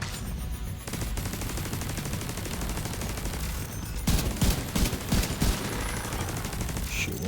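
Gunfire in The Division 2 video game against Guardian enemies: rapid automatic fire runs throughout, with a few louder, sharper shots near the end over constant combat noise.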